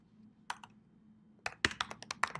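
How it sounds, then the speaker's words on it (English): Typing on a computer keyboard while entering a search in a cloud launcher, a short burst of quick, close key clicks after a couple of isolated taps, with no talking. "we're just going to type in"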